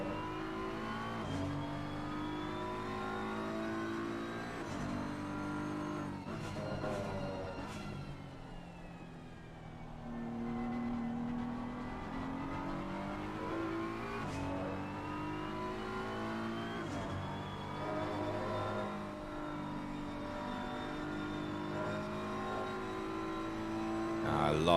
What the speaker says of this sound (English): I love these sounds of the car.